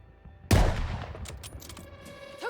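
Gunfire from the video game Call of Duty Vanguard: a sudden loud blast opens a burst of shots and rattling fire that decays into scattered pops and metallic clinks, with no voices over it.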